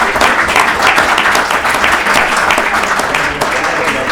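An audience applauds at a novel presentation during a book fair in Buenos Aires, loud dense clapping that carries on steadily throughout.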